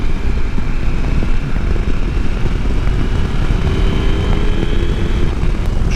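A KTM 890 Adventure R motorcycle engine pulls hard under acceleration, a loud, continuous close-up drone with steady rumble and wind rush throughout.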